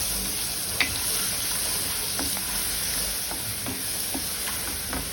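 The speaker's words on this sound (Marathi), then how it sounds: "आता ही हिरवी मिरची आणि जे लसूण वगैरे बारीक करून घेतलं होतं ते मी यामध्ये टाकत आहे" Chopped green chillies and garlic sizzle steadily in hot oil in a pan on medium heat while making kadhi. A few light scrapes of stirring sound over the continuous hiss.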